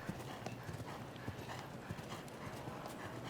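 A show jumping horse lands after an oxer and canters on at a grand prix, its hooves striking the arena in a quick, even drumming rhythm, close and steady with no talk.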